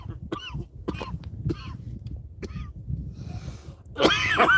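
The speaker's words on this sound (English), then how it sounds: "I had to cough my way through that." A person coughs in several short, harsh bursts spread across a few seconds, with a louder, rougher fit of coughing at the end against a quiet background.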